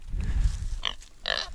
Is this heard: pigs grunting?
yes